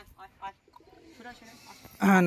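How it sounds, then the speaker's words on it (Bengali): Giribaz pigeons at a loft give a soft coo in short bursts, ending in a louder, closer call, with a voice talking under and between them. "সুখচাঁদ ভাইয়ের পায়রা এগুলো"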